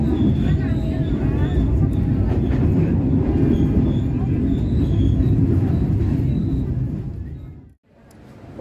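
The Penataran passenger train rumbles steadily nearby, then its noise drops away suddenly near the end as it comes to a stop at Malang station in Indonesia.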